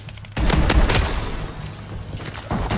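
Rapid automatic gunfire in Call of Duty Advanced Warfare Infected mode, a loud burst of close shots after a brief quiet start, trailing into scattered firing.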